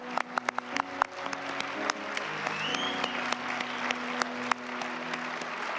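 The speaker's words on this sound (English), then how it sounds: "we can acknowledge them with some applause" A Sunday church congregation gives a round of applause for new members, scattered, moderately loud claps with distinct individual hand strikes standing out over a sustained background tone.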